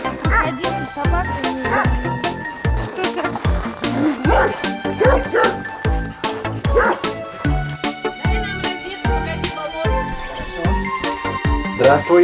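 A dog barks and yips repeatedly in quick succession, close and loud, with whimpers mixed in and voices around it.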